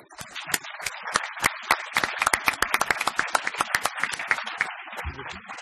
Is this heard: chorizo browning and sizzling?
no